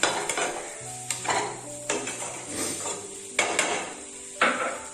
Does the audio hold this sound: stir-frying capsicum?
yes